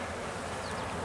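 Honeybees swarming from an opened active hive, a dense agitated buzz close to the microphone, continuous and fairly quiet over the short span.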